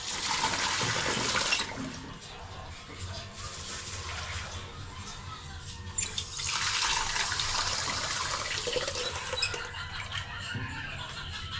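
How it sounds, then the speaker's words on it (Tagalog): Water runs into a cooking pot in a home kitchen, a steady close splashing pour that swells in two bursts with a quieter trickle between them. "Lalagyan na natin tubig."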